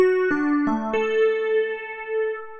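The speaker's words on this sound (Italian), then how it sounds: "L'arpeggio che facciamo noi è semplicemente questo" Piano arpeggio from a song tutorial: four clear notes struck in succession, each ringing on and overlapping into a sustained, fading chord, with no voice.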